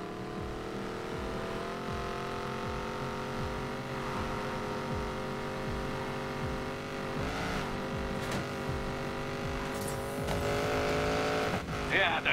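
A Koenigsegg's engine in the racing game Need for Speed Payback: a steady, droning motor tone at speed that swells near the end, with faint game effects around it.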